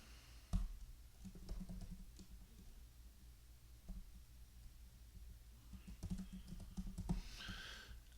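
Someone types on a computer keyboard while writing a chat reply, giving soft, quiet clicking keystrokes in irregular bursts with a few louder taps near the start and end.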